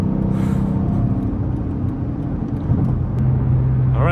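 A 2006 Dodge Charger R/T V8 drones at highway speed in a loud, low, continuous rumble with a steady engine hum, heard from inside the car.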